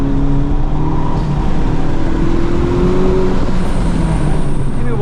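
A 2023 FL5 Honda Civic Type R on FK460 all-season tires lapping a flooded track, its engine droning steadily loud and close under a constant wash of spray and road roar.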